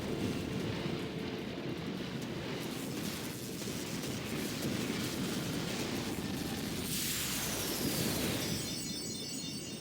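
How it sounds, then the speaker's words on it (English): Underwater boss defeat in Final Fantasy X HD Remaster, the creature bursting into fireworks: a dense, continuous roar of rumbling blasts and crackling bursts over a bubbly underwater wash, loud and steady throughout. "And then he explodes into fireworks underwater."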